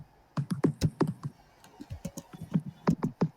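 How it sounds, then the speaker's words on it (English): Rapid computer keyboard typing, close and fairly quiet, comes in uneven bursts of sharp clicks with a short pause partway through. "If you hear me typing"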